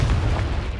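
A Confringo fire spell bursts in Hogwarts Legacy, a dense, sustained roar of explosive rumble that fills the short moment loudly and evenly, with no voices over it.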